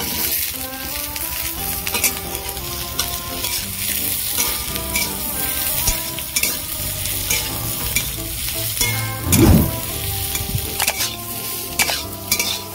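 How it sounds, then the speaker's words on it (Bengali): Eggplant pieces sizzle steadily in hot oil for a koi fish curry, with a spoon stirring and scraping the pan now and then and a louder clatter midway; no one speaks. "এবার বেগুনগুলো দিয়ে দেব"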